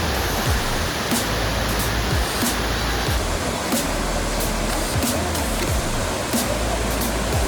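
Milky Waterfall in Abkhazia, its pale water crashing down in a steady, close, full roar of white noise that never lets up and drowns out every other sound.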